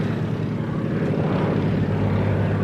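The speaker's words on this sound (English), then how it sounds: "I also knew that Jimmy can't land that airplane with Lee hanging down below there" A propeller airplane drones loudly and steadily overhead, a dense continuous engine roar with no voices.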